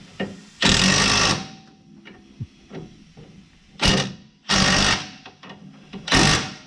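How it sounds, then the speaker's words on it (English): Bursts from a Milwaukee power tool working on the control arms and ball joints of a 1970 Ford's suspension, four loud roughly one-second runs separated by clanks and knocks, with no talk. "There's too much power in those new Milwaukee tools. For real, it's shaking it up, man."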